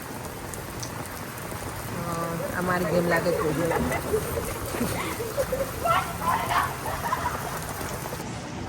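Heavy rain pours steadily on surfaces all around, with people talking briefly over the constant downpour.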